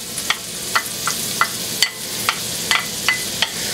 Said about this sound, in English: I'm just going to cook this over medium heat until it gets soft.